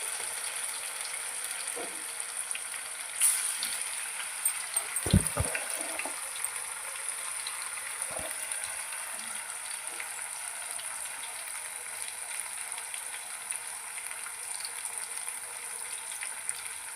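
Food frying in well-heated oil gives a steady, faint, hissing sizzle throughout, with a couple of brief knocks and clatters early on before it settles into an even crackle.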